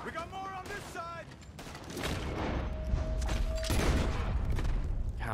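Video game gunfire erupts in a dense, continuous volley of shots and booms that swells and holds through the second half, after brief speech at the start.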